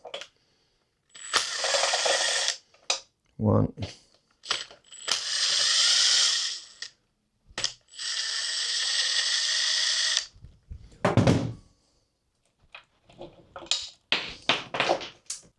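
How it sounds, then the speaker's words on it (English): An electric drill runs bolts out of a Tohatsu 9.8hp outboard engine. It gives several close whirring bursts of a second or two, separated by pauses filled with clicks and small metallic taps. "electric drill."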